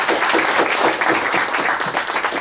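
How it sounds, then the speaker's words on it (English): An audience applauds at a fireside chat event, a dense, steady wash of many hands clapping that is loud and close, with no pauses across the whole stretch. "one more round of applause for Dan"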